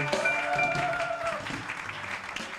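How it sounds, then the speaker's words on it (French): A church congregation claps for the Lord in a steady wash of applause, with sustained musical tones sounding faintly underneath. "We clap for the Lord."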